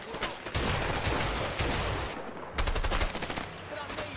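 Rapid gunfire in the video game A Way Out, dense bursts of automatic shots crackling fast and loud, broken by a brief pause before another volley, up close in a firefight.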